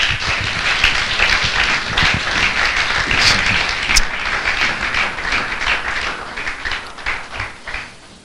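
A church congregation applauds to acclaim God, with dense, sustained clapping from many hands filling a large room and tapering slightly near the end.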